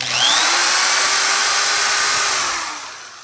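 A power drill running off a DIY solar setup with a pure sine wave inverter and charge controller whirs steadily and loud for about three seconds, its pitch rising slightly at the start, then winds down near the end.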